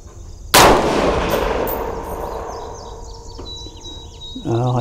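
A single loud, sharp rifle shot from a Colt 901 converted from .308 to 5.56 cracks early, then a long ringing decay; near the end, a brief mechanical clatter follows.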